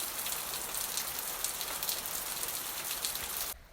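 Steady rain falling and pattering on a surface, a dense even hiss with scattered drops, cutting off abruptly at the end.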